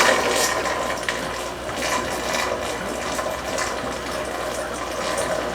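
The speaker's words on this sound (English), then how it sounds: "it's just been loud, gurgling, obnoxious sound until we did this" Water gurgles steadily through the plumbing of a 120 gallon aquarium, a continuous bubbling, sloshing churn with faint rattling, close and fairly loud throughout, with no voices.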